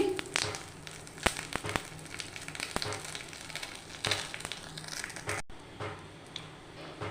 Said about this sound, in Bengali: তার মধ্যে আমি কালো জিরে ফোড়ন দিয়ে দিচ্ছি